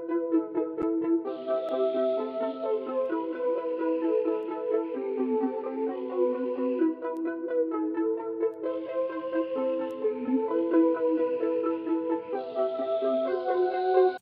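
A sustained synthetic flute melody from the Omnisphere Aryan Wet Flutes preset plays steadily and alone, layered with bright harmonic upper tones, for an ambient trap beat in FL Studio.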